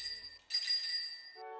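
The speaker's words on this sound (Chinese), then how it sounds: "就是我会自己在家那种自行车上面那个铃铛嘛，我会按着按着数到了1000" A bicycle bell at home rings clearly and close: a short first ring, then a brighter second ring that fades into a lower, softer tone.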